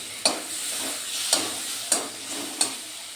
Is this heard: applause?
no